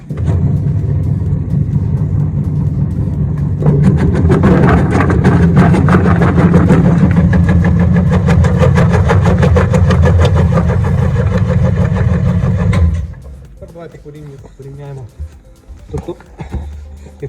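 An STvega Combo industrial vegetable dicer machine starts up and runs with a loud, steady mechanical drone for about nine seconds, then cuts off abruptly, leaving quieter clatter behind.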